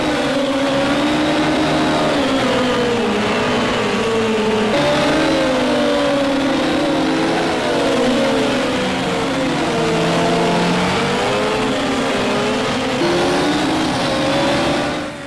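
Race car engine in Project CARS 2 revving hard and climbing through the gears, a loud continuous whine rising and dropping with each shift, close and steady for the whole stretch.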